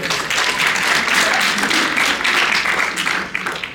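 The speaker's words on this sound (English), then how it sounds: "big round of applause for Mr. Armis Scarpinato, please." Audience at a panel on goblin lore breaks into a loud, dense round of applause that holds steady, then thins and tapers off near the end.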